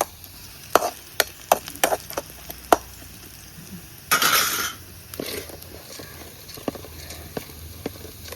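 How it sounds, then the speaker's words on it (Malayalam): Sliced onions frying in a pan are stirred with a utensil, giving sharp clinks and taps against the metal, a longer scraping pass and a soft sizzle underneath. "നമ്മൾ ഉള്ളി ഇതാ മൂത്ത് വരുന്നുണ്ട് കേട്ടോ ഒരു കൈ ഒന്ന് ഇളക്കി പാകാക്കി കൊടുക്കട്ടെ"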